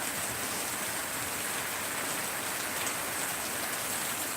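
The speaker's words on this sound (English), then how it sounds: "Oh yeah, the rain on the corrugated roof, best thing ever." Heavy rain drums on a corrugated roof in a dense, continuous hiss that stays steady and close, with no voices.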